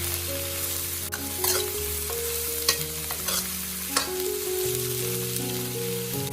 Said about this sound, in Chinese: 把羊肉倒下去，先炒干羊肉的水分，用油这样炒一炒